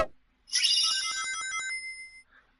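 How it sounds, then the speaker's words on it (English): A phone notification themed on Kingdom Hearts 2 plays a bright, melodic chime of quick rising tones that rings out and fades over about two seconds, loud and close, with no talk. "If you can hear that pop up on my phone, that was the Kingdom Hearts 2 notifications"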